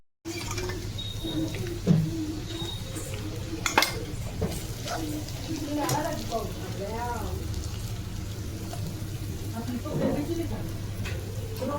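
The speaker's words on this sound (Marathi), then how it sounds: "चांगलं परतून घ्यायचं" Steady sizzling of eggplant sautéing in a hot pan with garlic and coriander, with occasional scrapes and clinks of a utensil stirring, continuous and close throughout.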